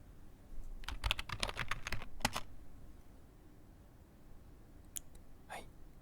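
Keys tapped on a computer keyboard without any speaking: a quick close burst of clicky keystrokes in uneven rhythm, a short pause, then a couple of isolated taps against a quiet background.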